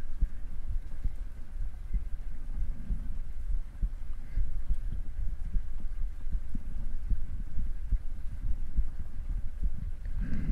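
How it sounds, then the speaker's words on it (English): A heartbeat plays throughout as a soft, steady low thumping pulse with a faint hum underneath, close and quiet, with no talking. "Just focus on the heartbeat and forget that giant sound that erupted everything."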